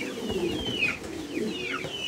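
Pigeons at a pigeon sale cooing nearby in soft, rolling repeated coos over about two seconds, several overlapping calls, with faint background noise and no talk.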